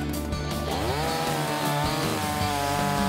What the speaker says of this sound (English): Push the chain brake towards the front and pull the cord to start again.